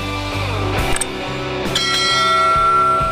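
A bright notification-style bell chime rings out over a sustained musical backing, with a clear ding near one second and another shimmering ring shortly after, loud and close with no talking.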